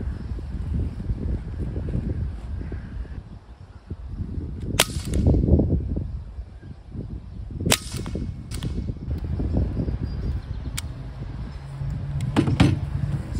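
A Sig Sauer MCX Virtus .22 caliber PCP air rifle fires outdoors, giving a few sharp cracks with pauses between them, heard over steady wind and low background rumble.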